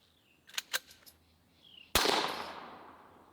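A suppressed Desert Eagle .50 caliber pistol fires one loud, sharp report that decays over about a second, after a few quick metallic clicks and clacks of handling.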